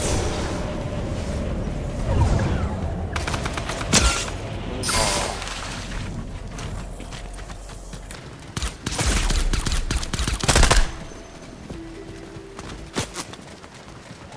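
A drum gun fires in Fortnite, with rapid bursts of gunfire in dense volleys and a few louder blasts over busy game noise.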